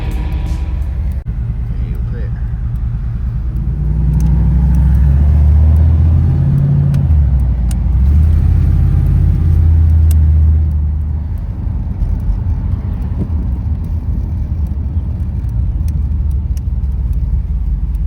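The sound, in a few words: luxury travel van driving up and parking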